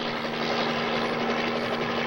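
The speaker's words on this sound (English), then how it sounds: "Hey, Gene Fox, look at that helicopter." A helicopter in a video game drones steadily with a constant rotor whir and a sustained engine tone, loud and unbroken throughout, with no talking over it.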